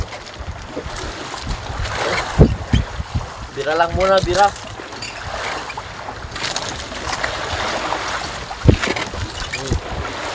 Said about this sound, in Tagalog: Malakas yung hangin. At, Alon.